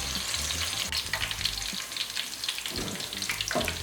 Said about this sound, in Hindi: प्याज को तब तक भूनें जब तक ये हल्का हल्का पिंक कलर नहीं इसका आ जाता, तब तक प्याज को भूनना है।